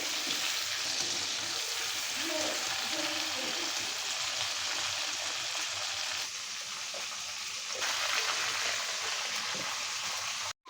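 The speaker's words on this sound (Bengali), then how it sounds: "আমি এখন আলুগুলো ভেজে নেব।" Potatoes frying in oil left from cooking meat, a dense, even hiss and sizzle that holds steady and close, briefly dipping before swelling again.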